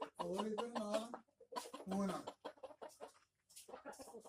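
A native rooster and hens, including a black Kadaknath bird, cluck and call close by in a farm pen, in loud bursts that mix with a person's speech.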